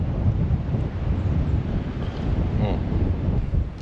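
Chilly wind blows steadily at a campground, a constant loud rush buffeting the microphone with no gaps, and a faint higher tone briefly rising through the roar.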